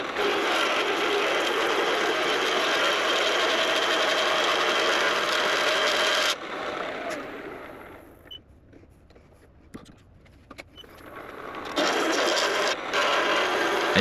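Woodfast WL1220A wood lathe turning a brass barrel as the tool tip cuts under its curve, a steady loud machine hum with scraping that drops away midway, leaving quiet clicks, then spins back up near the end.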